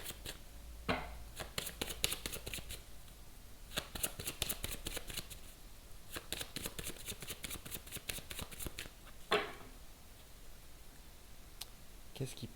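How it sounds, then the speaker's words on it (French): Tarot cards being drawn and shuffled by hand, with bursts of crisp riffling and clicking flicks close by, separated by short pauses, with faint speech in the background. "on va tirer une deuxième carte quand même."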